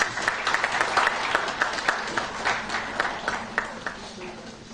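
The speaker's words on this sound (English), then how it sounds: "A big round of applause for Dr. Lakra, please." An audience at an award ceremony in a Chandigarh hotel claps in a steady burst of applause that continues throughout.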